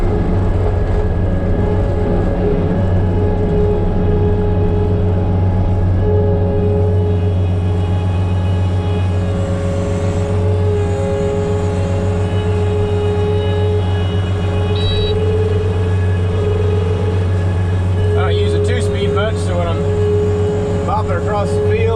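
A two-speed wheel machine carrying a hay spear drives across a grassy field, its engine a loud, steady drone with a continuous low hum throughout and a few squeaks and rattles near the end.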